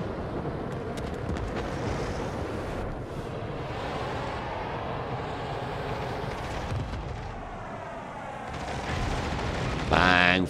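Warship guns fire in the naval battle game World of Warships: Legends, booming blasts and rumbling explosions mixed under ongoing speech, ending with a sharper, louder salvo impact.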